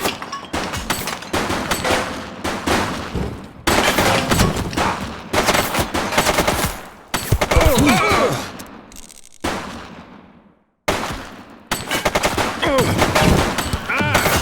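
Gunfire from the police game The Precinct: loud, repeated bursts of rapid shots and single cracks in close succession, broken by a brief silent gap before the shooting resumes.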